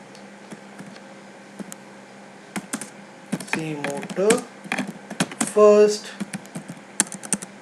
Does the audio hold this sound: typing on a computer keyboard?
yes